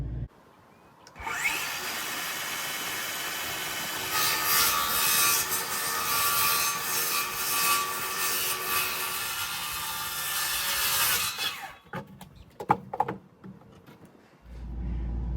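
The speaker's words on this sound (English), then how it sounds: "I had to go get a piece of plywood and cut it to fit that hole." A power saw cuts through plywood for a hole in a boat cabinet, a loud sustained whine running about ten seconds, then winding down into a few knocks and clatters of handling the piece.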